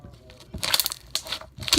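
Crisp crunching and crackling bursts as stretchy slime is squeezed and worked by hand, close up in short irregular clusters, with no speech.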